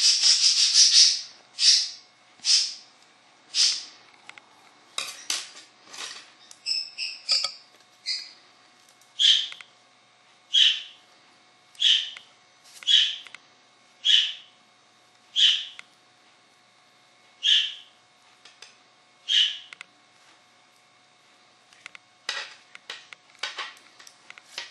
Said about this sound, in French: j'ai un oiseau très bruyant. Tout petit mais très bruyant.